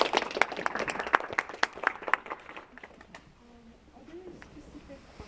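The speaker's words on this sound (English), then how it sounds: "Yeah, can we go round of applause?" Audience applause at a Harvard panel on sexual violence and international human rights: a dense burst of clapping fills the room, then thins and dies away into a quiet hall with a few scattered faint sounds.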